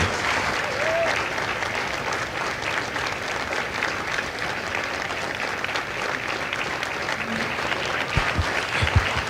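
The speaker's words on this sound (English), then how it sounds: "Ladies and gentlemen, a round of applause for their dedicated service to Corps and country." A large crowd applauds at a Marine Corps recruit graduation ceremony at MCRD San Diego, a broad, sustained wash of clapping heard from a distance, steady throughout with faint crowd murmur.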